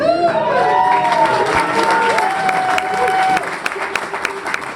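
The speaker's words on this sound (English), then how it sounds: "It's that hand clapping that makes me feel real" An audience at a bluegrass concert in an American Legion hall in Evanston claps and cheers loudly, with a few whoops rising above the steady applause that gradually thins out.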